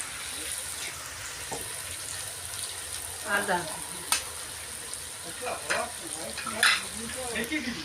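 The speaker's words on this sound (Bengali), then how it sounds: "পেঁয়াজটা ভালো করে ভাজা হয়ে গেছে" Chopped onion and ginger fry in a pan with a steady sizzle, and occasional louder stirring scrapes and clinks, close by, with no speech.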